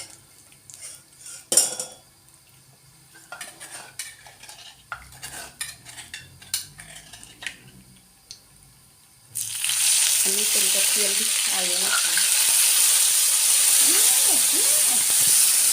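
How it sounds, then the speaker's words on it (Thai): Garlic frying in oil for Thai pad see ew: soft clinks of utensils and light stirring at first, then a sudden loud, steady sizzle that fills the rest of the clip. "กระเทียมเจียวนะคะ"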